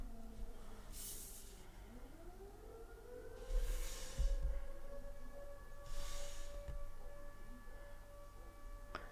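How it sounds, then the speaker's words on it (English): A distant siren wails, its pitch rising slowly and then holding steady, with soft rushing bursts of wind-like noise recurring every couple of seconds. "We have a Siren that decided just to go off."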